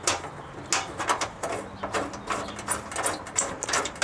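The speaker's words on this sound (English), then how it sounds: "grab my M6 and screw it into the OEM holes here" An M6 bolt is being screwed by hand into OEM holes while a skid plate extension goes onto a Lexus GX460, with close, repeated clicking and ratcheting mechanical sounds in short irregular bursts.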